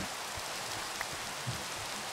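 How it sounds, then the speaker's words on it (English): Steady rain in a fantasy video game, a soft continuous hiss of falling drops with a faint tap or two, low and even throughout with no talk. "Let's get rid of this rain."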